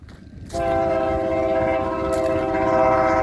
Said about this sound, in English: Is that a train coming? I think that's a train coming.